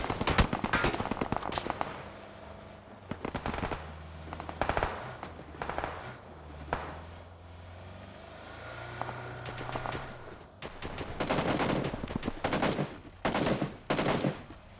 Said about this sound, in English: I got double headshot with the AK